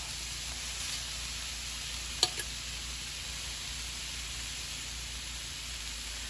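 Pieces of black garlic chicken sizzle on a grill with a faint, steady hiss that holds evenly throughout, plus one brief tick near the middle.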